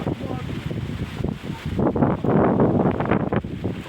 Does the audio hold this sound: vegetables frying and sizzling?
no